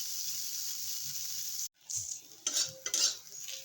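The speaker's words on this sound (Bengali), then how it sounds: "আমি একটু কড়া করে ভাজলাম" Edible flower frying in hot oil until crisp, a continuous sizzle broken by a short pause, then stirring and utensil scrapes against the pan.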